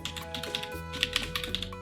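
Fast, steady typing on a computer keyboard with some keys not working properly, a dense run of crisp close key clicks with no talking.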